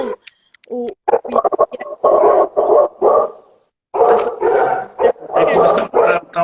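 Dogs bark loudly and excitedly at people passing in the street, with rapid repeated barks and yips in bursts, close to the microphone.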